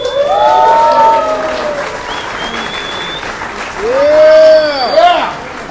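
Applause fills the room at an art exhibit show in MacArthur Park, Los Angeles, loud and sustained, with cheering voices and whoops rising over the clapping in two swells.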